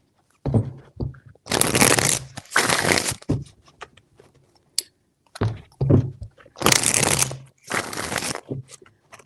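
Tarot cards are riffle-shuffled in several loud, close, rasping bursts of about a second each, separated by short pauses and soft taps as the deck is squared, with no voice heard.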